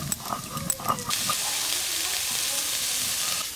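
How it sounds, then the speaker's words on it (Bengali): Chicken mince frying and being stirred in a pan for a stuffing, a steady close hiss and sizzle that swells after a few clattering stirs at the start. "চিকেন কিমা তো কষতে খুব বেশি সময় লাগবে না,"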